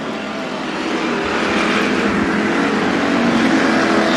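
Loud, steady roar of race car engines building and holding at full throttle at Bakersfield Speedway under green flag, a dense wall of motor noise with no pauses.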